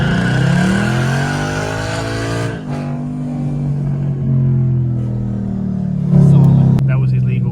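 A Mustang prepared for autocross does a burnout on a racetrack, its engine roaring loudly and revving with tire squeal layered in, close and sustained throughout.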